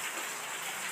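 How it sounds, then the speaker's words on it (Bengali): Steady rain falling outside on a rainy morning, an even, dense patter that stays constant throughout. "বাইরে বৃষ্টি পড়ার আওয়াজ আসছে।"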